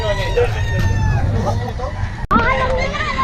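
Roosters crowing at a busy poultry market in Bocaue, with repeated crows over a constant hubbub of voices and people talking nearby.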